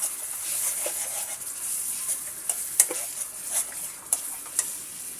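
Onion paste and chili powder fry in hot oil for a gourd curry with singi fish, a continuous close sizzle broken by occasional clicks and taps of a spoon against the pan, with no voices.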